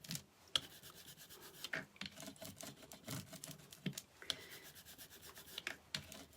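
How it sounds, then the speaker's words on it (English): Rubbing, scraping passes of an ink-loaded brayer rolled over an embossing folder, faint and close, with uneven strokes and small clicks between them. "I'm just going to load up this brayer, and I'm just going to roll it over the embossing folder"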